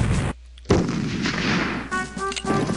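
Artillery cannon fire in the Civil War Generals 2 strategy game: a loud booming barrage of cannon shots, with a short silent gap before heavy firing resumes and rumbles on continuously.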